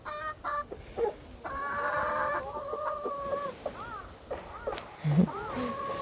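Chickens in a coop at a rural weekend house in Miryang, South Korea: several birds clucking and calling in short, irregular bursts, close by, with a brief crowing note and faint background noise.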